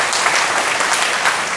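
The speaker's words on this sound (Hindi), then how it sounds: "उस समय आप खुशी से ताली बजाएंगे ना अपने लिए" Steady applause from an audience at a spiritual class, dense and even throughout with no voices on top.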